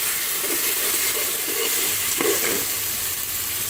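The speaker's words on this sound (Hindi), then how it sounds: "अब मैं इसे चूल्हे पर रखूंगी। अब मैं इसको भूनने लगी हूँ।" Ginger garlic paste fries in a hot pan on the stove, giving a loud, steady sizzle with a soft scrape or stir partway through.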